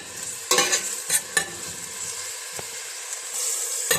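Sliced onions hit hot oil in a pan, bursting into sharp crackling sizzles with a steady frying hiss and several louder spatters and stirring clatters, close and without talk.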